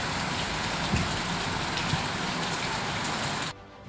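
Heavy torrential rain pours down in a steady, dense wash of hiss and patter. It sounds close and loud, with a few louder drops, and cuts off abruptly near the end.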